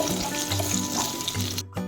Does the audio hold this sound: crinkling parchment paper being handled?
no